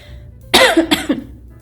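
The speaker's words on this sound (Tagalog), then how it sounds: "Inuubo ako." A couple of sharp, close coughs in quick succession, loud against a quiet background with no talking.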